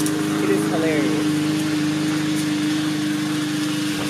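A lawn mower engine runs steadily at moderate distance, a continuous droning hum throughout with some wind noise.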